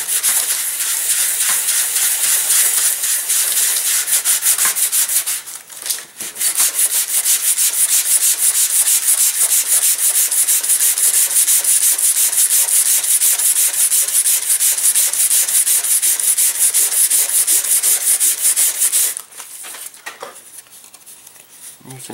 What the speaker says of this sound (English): Sand these blades till they are almost paper thin.